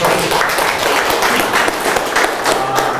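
An audience at a talk on antimicrobial resistance in livestock production gives a brief, steady round of applause, close and fairly loud, with scattered individual claps standing out.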